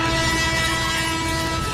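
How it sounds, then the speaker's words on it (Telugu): A train approaches with a loud, steady rolling rumble and a sustained tonal drone, like a held horn, filling the whole moment without pause. "ట్రైన్ వస్తుంది."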